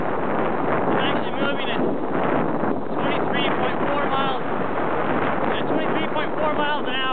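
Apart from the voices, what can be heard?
wind noise while riding a bicycle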